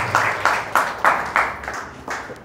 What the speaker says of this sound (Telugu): చప్పట్లు కూడా చెప్పండి.